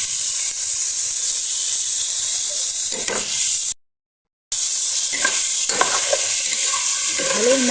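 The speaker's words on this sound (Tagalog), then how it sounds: "Ilalagay natin yung ating chicken. Ayan. Igisa din natin to." Chicken sautéing in a pan for lugaw, a loud close hiss and steady sizzle with bursts of stirring, broken by a short moment of silence before the frying resumes, with no talk.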